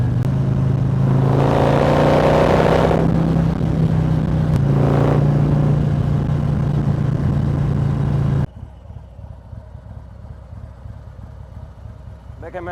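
A Harley-Davidson motorcycle engine runs loud and close with a steady droning rumble, rising briefly as it revs, then cuts to quieter background noise near the end.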